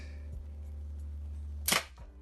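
A K117D spring-powered airsoft gun fires one sharp, close snap that stands out against a quiet room hum, with a faint click just before it.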